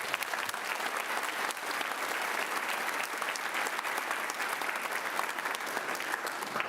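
An audience at a Grade 6 and Grade 8 graduation ceremony claps in dense, sustained applause that holds at an even level throughout, filling an indoor hall with no clear voices above it.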